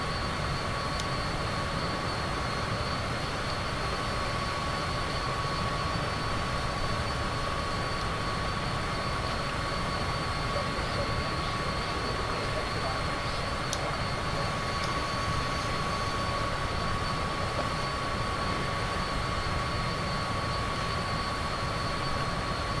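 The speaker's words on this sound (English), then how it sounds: "No, the plane's really loud." A loud, constant engine drone from an aircraft in Microsoft Flight Simulator 2024, an unbroken roar with a steady tonal whine running through it for over twenty seconds, with no voices heard.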